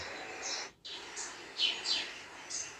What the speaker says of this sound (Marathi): हा मेल दयाळू आहे आणि मानवी वस्तीत आढळणारा हा पक्षी आहे